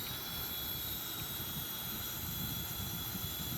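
A Boeing 777-300ER jet engine starts and spins up, a steady whining roar with high tonal hum held throughout, moderately loud and continuous with no voices.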